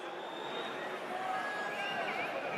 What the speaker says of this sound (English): You can hear the Racing crowd here. They absolutely hate the decision.